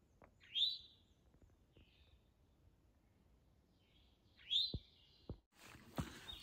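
Wild bird singing along the Appalachian Trail near Apple Orchard: two bright, clear song phrases a few seconds apart, moderately near over quiet outdoor background, followed by a few soft knocks and a rush of rustling noise.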